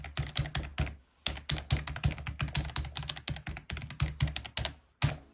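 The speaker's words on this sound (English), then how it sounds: "This keyboard ensures that every keystroke is a satisfying one." Brisk typing on an RK M75 mechanical keyboard, close and clear, with rapid clacky keystrokes in bursts separated by brief pauses.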